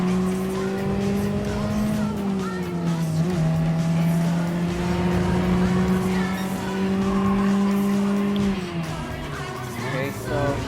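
Honda kei cars racing in Gran Turismo Sport, their small engines whining at high revs in steady drones that dip and climb through gear changes, with tire squeal at times and no talk.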